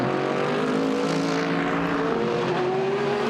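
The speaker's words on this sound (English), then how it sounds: "As we look at the Porsche coming down, and the 991 version of the GT3" A Porsche 991 GT3 race car roars past at Monza during a Blancpain GT endurance practice session, its loud, steady engine note sliding in pitch as it goes by, with no voices.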